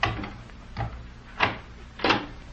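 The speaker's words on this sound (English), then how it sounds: "let me get this door open" Old-time radio drama sound effect of a door being opened, with a few soft knocks and creaky thumps spaced about half a second apart, close and fairly quiet, no talking.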